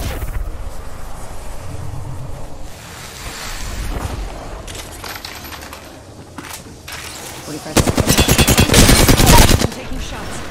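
Video game gunfire from a fast-paced shooter, with scattered shots early on and then a loud, rapid automatic burst lasting about two seconds near the end, over game noise.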